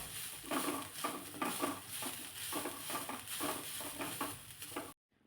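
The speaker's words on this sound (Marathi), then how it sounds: "मी चांगला अगोदर फ्लावर परतून घेतला आणि त्यानंतर मग एक प्लेटभर किसलेलं गाजर घातलेलं आहे." Cauliflower and grated carrot being stirred in a pan, a steady soft scraping and sizzling with repeated rhythmic strokes of a spoon, close and fairly quiet, ending abruptly.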